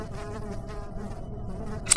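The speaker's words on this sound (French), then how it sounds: "C'est quoi ces mouches là?" Flies buzzing in the horror video game Amnesia: The Dark Descent, a steady droning insect hum that fills the scene with a brief sharp sound near the end, and no speech.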